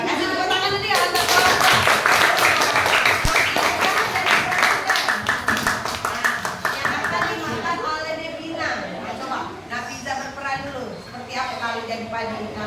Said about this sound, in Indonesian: kasih tepuk tangan dulu ya untuk